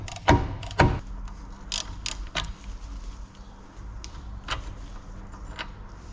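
A ratchet turns a suspension bolt on a Nissan Qashqai+2 wishbone arm: a few sharp metallic clicks and clacks, close and fairly loud, spaced irregularly over a quiet workshop background with no talking.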